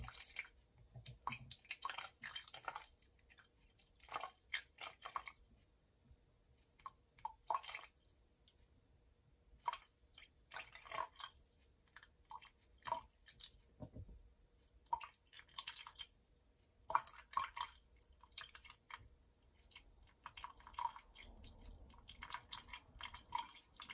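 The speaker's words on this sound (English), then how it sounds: "Got to make sure I catch all the water that overflows." Water overflowing from a container during a displacement volume measurement in a lab, heard as scattered small drips and splashes of varying loudness, fairly close and quiet, with no talking.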